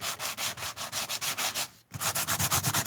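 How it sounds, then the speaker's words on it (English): A sanding block rubs back and forth over paper craft pieces for a steampunk altered book and junk journal, making steady rhythmic scratchy strokes, about five per second, close and loud, with one brief pause midway. "she sands her pieces"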